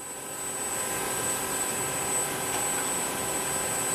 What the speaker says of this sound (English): I'm going to start with running the main spindle